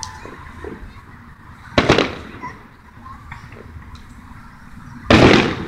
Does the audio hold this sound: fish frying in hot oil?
no